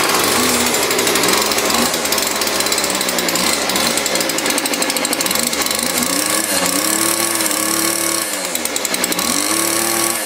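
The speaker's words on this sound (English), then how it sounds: "Leave the choke off and just start it again," A small two-stroke Weedeater string trimmer engine runs loud and close, a steady buzzing rattle that rises and falls as the throttle is worked, continuing throughout with no talking.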